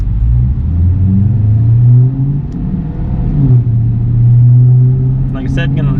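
A Cadillac CTS-V runs on a dyno held in one gear in manual mode, its loud engine drone rising and falling in steady, lugging pulls with a deep rumble, and a brief voice near the end.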